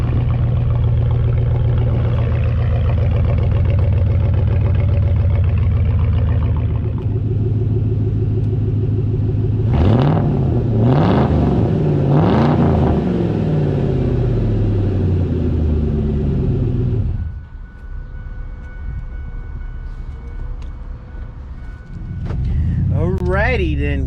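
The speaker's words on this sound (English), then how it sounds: "this is what it sounds like with dual exhaust" A 2007 Ford F-150 with the 4.6 V8 and dual exhaust rumbles loudly at idle, then gets three quick throttle blips in a row before dropping to a quieter, softer idle.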